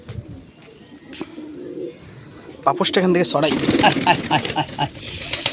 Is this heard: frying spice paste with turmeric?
no